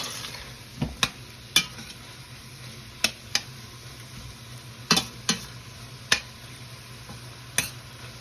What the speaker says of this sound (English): I'm gonna give this a quick stir.